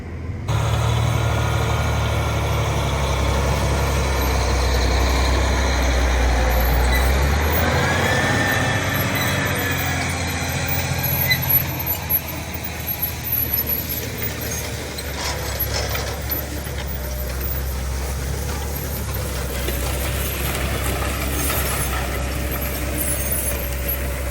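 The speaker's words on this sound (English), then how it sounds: "putting the tractor to work, and it feels good to have the tractor putting in some effort" Heavy tractor diesel engine droning under load for a long stretch while pulling a disk ripper through compacted soil, deep and steady, with a low rumble that eases partway through.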